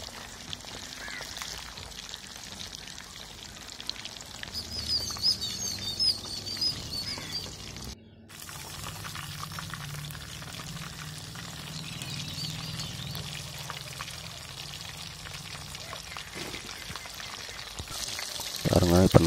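Chicken leg pieces frying in hot oil for KFC-style fried chicken, a steady close sizzle and bubbling patter that continues throughout, with a brief break in the middle.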